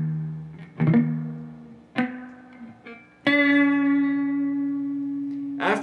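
Electric guitar plays the opening part of a song slowly: a few separate picked notes, each ringing out, then a long sustained note held alone.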